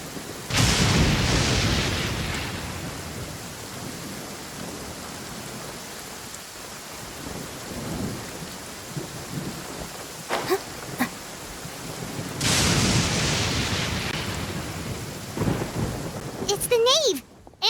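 Thunder rolls loudly twice through steady rain in the video game Genshin Impact, the rumbles swelling then fading over a constant patter, with brief chimes near the end.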